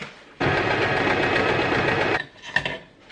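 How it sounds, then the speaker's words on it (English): A sewing machine runs in one steady, loud burst for nearly two seconds as it stitches fabric pieces right sides together with a seam allowance, then stops and leaves quieter handling noises. "So now these 2 are sewn together, right side together"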